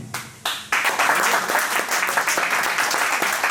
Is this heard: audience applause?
yes